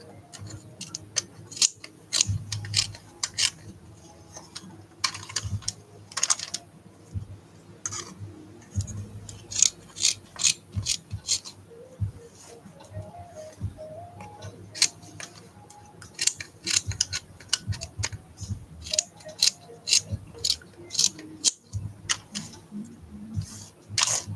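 Scissors trimming the pant legs of an art doll, a run of sharp close snips in irregular bursts with small handling clicks between them.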